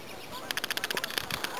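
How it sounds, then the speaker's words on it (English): Geese honking as they fly over a garden, a quick series of rhythmic calls, distant and faint. "That was geese flying over."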